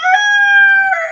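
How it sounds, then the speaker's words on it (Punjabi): A household rooster crows once, close and loud, in a single sustained, steady cock-a-doodle call lasting about a second. "ਕੁੱਕੜ ਦੀਆਂ ਬਾਂਗਾਂ ਸ਼ੁਰੂ ਹੋ ਜਾਂਦੀਆਂ"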